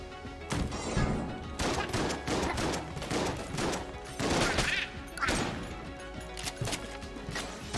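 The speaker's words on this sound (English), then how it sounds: "Shotgun versus shotgun, as nature intended." Rapid shotgun blasts in the video game Enter the Gungeon, loud, close bursts cracking in quick succession over layered game sound effects, with no talking.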